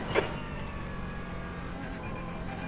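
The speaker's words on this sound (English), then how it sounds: "You can hear the engine noise of this Porsche." A Porsche race car engine at speed during a lap of the Nürburgring Nordschleife, heard from inside the car as a steady, even droning tone with no talking.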